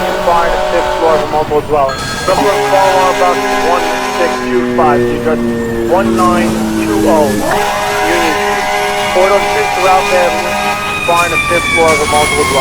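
Fire engine siren wailing with repeated horn blasts in the video game EmergeNYC, loud and continuous, rising and falling tones layered with honks throughout.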